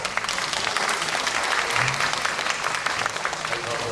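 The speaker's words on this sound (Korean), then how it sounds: "큰 박수 좀 쳐주세요" An audience at a citizens' town-hall meeting in Sejong City gives sustained applause, a dense, even wash of many hands clapping close and loud for the whole span, with faint voices mixed in.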